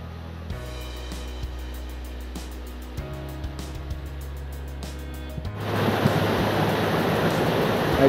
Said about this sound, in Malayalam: ആ പാലത്തിൻ്റെ അടിയിൽ കൂടെയാണ് ഈ പുഴ ഒഴുകുന്നത്